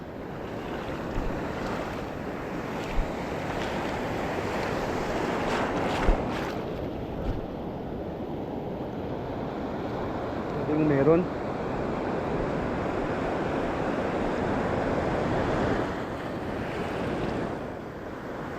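Large ocean waves surge and crash around a small fishing boat at sea, a broad roaring wash with wind buffeting the microphone, while someone briefly speaks over the noise.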